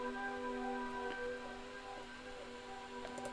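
A sustained synth pad sampled from an original song, treated with chorus and vinyl-style effects, holds steady layered tones with a faint crackly noise bed underneath, quiet and continuous with no voices.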